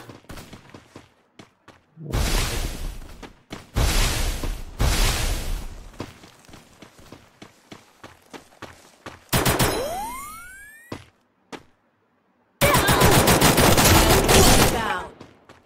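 Gunfire in the Free Fire battle game: several loud bursts of rapid automatic shots separated by quiet gaps, with a sweeping whoosh effect midway and a final long burst, close and sharp.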